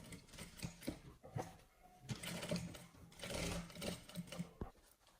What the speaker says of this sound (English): So for the rope, we are going to sew the rope.